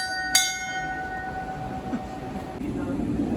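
Serengeti Express train at Busch Gardens Tampa Bay, with a sharp bell-like ring near the start over a steady rumbling rail background that swells slightly toward the end.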